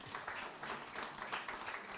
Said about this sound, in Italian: facciamo un applauso anche alla moglie.